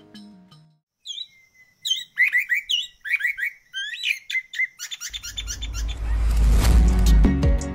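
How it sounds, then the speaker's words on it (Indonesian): A laughingthrush sings a lively series of clear, varied whistled phrases nearby, then a loud rushing noise swells and drowns out the song near the end. "burung kicau karena suara kicauannya yang sangat merdu dan mempunyai banyak variasi"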